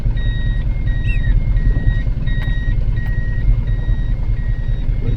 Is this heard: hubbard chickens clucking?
no